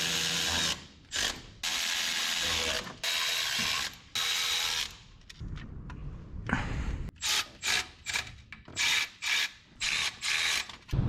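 A ratchet wrench tightens bolts on an LS-swapped S-10 engine to about 18 foot-pounds. It gives loud, close, rapid clicking in repeated bursts: long runs at first, then short evenly spaced pulls separated by brief pauses, with no talking.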